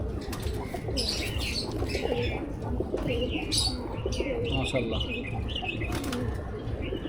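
A flock of pigeons at a Bangladeshi pigeon keeper's loft, with wings flapping in bursts and steady cooing and chirps close by, over a dense, continuous background of bird sounds.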